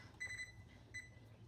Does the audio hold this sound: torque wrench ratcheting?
no